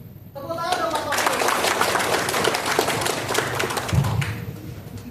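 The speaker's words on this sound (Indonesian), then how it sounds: "Tepuk tangan dong Bapak." Audience applause at a landscape gardener training session: a dense, steady patter of many hands clapping for several seconds, filling the room before tapering off, with a thump near the end.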